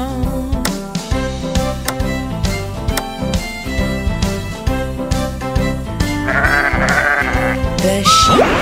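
A sung voice imitates sheep bleating in a repeated three-beat 'baa' pattern over bouncy children's nursery rhyme music with a steady beat.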